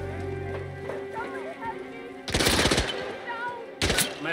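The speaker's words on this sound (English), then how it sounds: "Gunshot!" Loud bursts of gunfire in the Hitman World of Assassination video game, a rapid volley then a shorter burst, breaking over a steady game soundscape.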